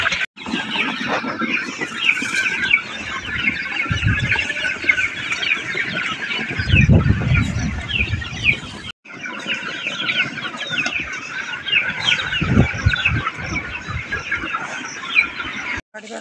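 Farmyard chickens cluck and squawk close by, a busy overlapping chorus that continues almost without pause, broken briefly by a short gap midway.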